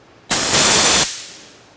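A single short burst of hissing spray of LizardSkin coating from a spray gun, loud and close, lasting under a second before cutting off sharply.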